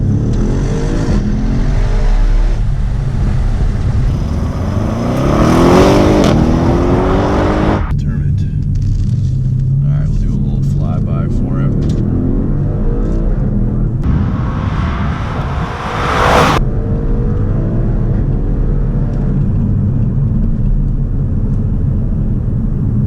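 A 605 hp Audi RS7 accelerates hard from 0 to 60, its engine roaring loud and rising through gears with a shift break midway, then surging again; people talk over it.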